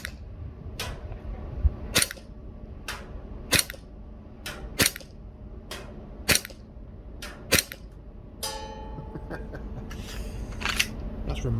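An airsoft Glock 19 gas pistol fires 0.3 gram BBs at a 40-meter target: sharp, evenly spaced cracks ring out one after another, about ten shots over steady background noise.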